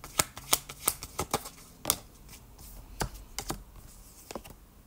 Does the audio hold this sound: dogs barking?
no